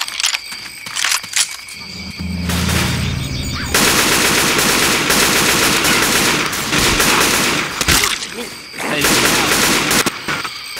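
Rapid automatic gunfire rattles loudly in Left 4 Dead 2, with sustained bursts broken by short gaps, dense mixed game effects, and a voice speaking over the action.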